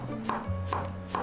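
A knife thinly slicing cucumber on a cutting board, three crisp, evenly spaced taps close by and alone.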